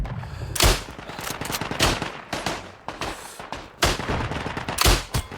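Gunfire in the World War I shooter Isonzo: sharp, loud rifle shots crack in an irregular series, about five prominent reports with echoing tails and fainter distant shots between.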